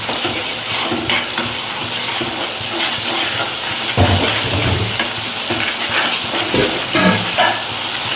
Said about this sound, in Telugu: ఇవన్నీ బ్రౌన్ కలర్ వచ్చి ఇప్పుడు అల్లం వెల్లుల్లి పేస్ట్ వేయాలి.